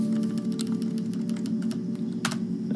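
Computer keyboard typing as a name is entered into laser engraving software, quick irregular key clicks close by over a steady low background hum, with a louder burst of keystrokes near the end.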